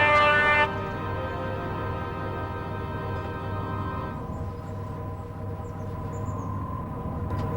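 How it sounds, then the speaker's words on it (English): Tram and train sounds in a railway yard as a railtour train arrives: a short horn-like tone at the start, then a steady low rolling rumble with sustained tonal hum, moderately faint. "Toby the tram engine had just finished arranging trucks in the yard when a new Railtour train"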